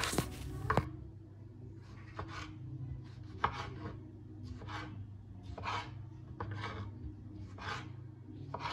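Tomatoes are sliced with a knife on a board, about a dozen evenly spaced cutting strokes, each a brief scrape ending in a soft knock, quiet and close with no talking.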